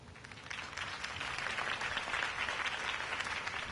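A crowd applauds at a political campaign rally in the Batman Telltale video game, sustained clapping that swells in and holds steady throughout.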